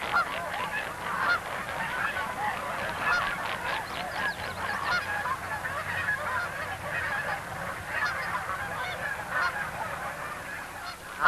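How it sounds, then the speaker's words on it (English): Dense flock of Taverner's geese honking continuously, many overlapping calls at a steady distance, with no pauses across the whole stretch. "You can tell these are taverner's geese by their light breasts and short necks."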